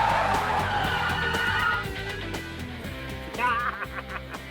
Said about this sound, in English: First up is the regular braking distance on the automatic.